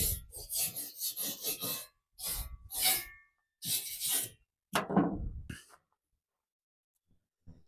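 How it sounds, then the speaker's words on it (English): A wire brush scrapes gunk off a door seal in several short, rasping strokes over about five seconds, close and fairly loud, then falls silent. "Just take my wire brush and just kind of scrape it down,"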